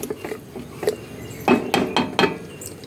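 Cumin seeds stirred in a cooking pot for Kerala-style rajma curry, with a few spoon or ladle knocks and scrapes against the metal, close by, sparse and irregular, no talking.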